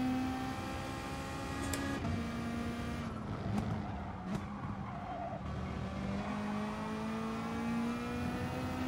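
A Mazda Atenza races in GT Sport with a sustained engine drone rising slowly in pitch as it accelerates, and brief tire squeals partway through, steady and fairly loud with no talk.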